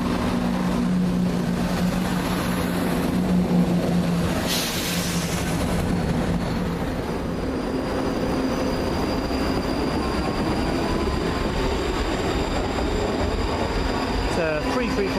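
A train rumbles steadily with wheel noise and a brief squeal, a continuous heavy rolling sound as it pulls into a station in Scotland, with faint voices in the background.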